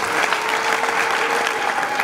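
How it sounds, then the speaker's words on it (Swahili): Applause for a pastor at a church gathering, a steady, dense clapping from a crowd that fills the whole moment without pause. "Tumpigie makofi Anton."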